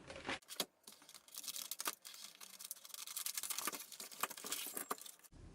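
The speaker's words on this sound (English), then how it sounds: "So let's cut this package open and get inside." Close, quiet crinkling and tearing of a plastic package being cut open to get at a three-piece woodworking chisel set, in irregular scratchy bursts with no talking.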